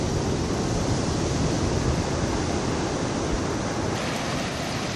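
Ocean surf at the mouth of the Rivière des Galets on Réunion, heard as a steady, unbroken roar of breaking water with no voices.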